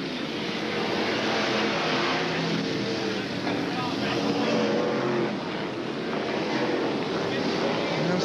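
BriSCA F1 stock cars racing at Coventry in 1981, a dense continuous roar of several engines at a distance, buffeted by wind noise, with a commentator talking over it.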